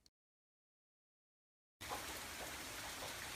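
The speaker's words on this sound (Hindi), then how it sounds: "बारिश लगातार हो रही थी।" Steady rain falls on a dark night, a dense even wash of drops that starts abruptly after nearly two seconds of silence and holds at a constant level to the end.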